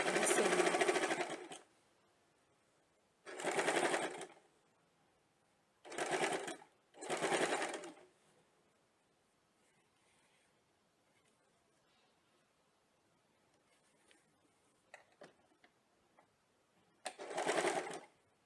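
A home sewing machine stitches strips of fabric in five short whirring bursts, each lasting a second or two, separated by quiet pauses with small handling clicks.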